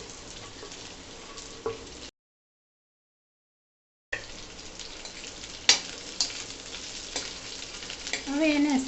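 Steamed muthiya dhokla pieces sizzle in a tempering of cumin, sesame, curry leaves and green chillies while a spoon scrapes and stirs them, broken by a two-second silent gap, then louder clinks and sputtering.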